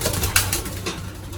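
Young pigeons cooing in a loft, a brief stretch of low, murmuring coos close by, with no talking.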